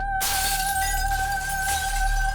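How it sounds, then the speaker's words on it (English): A drinking glass shatters into a loud, bright burst of breaking glass that rings on under two steady high resonant tones, with no voices. "they can shatter a glass just by subjecting it to its unique resonant frequency"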